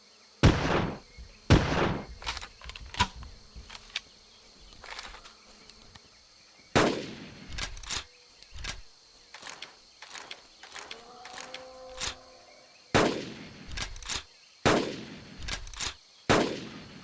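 Sharp gunshots from the video game Carnivores Legacy, fired in separate bursts and single cracks across the stretch, loud and close, with quieter gaps and some faint background tones between volleys.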